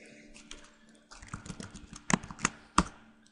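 Typing on a computer keyboard, close and fairly quiet, with scattered soft keystrokes building into a few sharper, louder clicks near the end and no talking.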